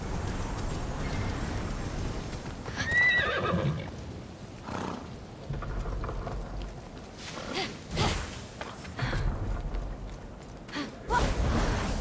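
A horse in Immortals Fenyx Rising gives several loud neighs and whinnies, with clip-clopping hooves and swishing game sounds around them, in bursts spread across the stretch with no talking.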